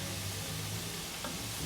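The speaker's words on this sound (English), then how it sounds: "look at our green beans. You hear that sizzle?" Green beans frying in a hot pan for a Southern keto meal, a soft, steady sizzle and faint crackle close by, with no talking over it.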